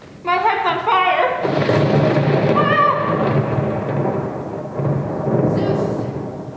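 Theatrical thunder-and-lightning stage effect in a university production of Medusa's Tale: a loud, sustained rumbling crash that fills the space, following a sung or shouted voice and rolling on for several seconds.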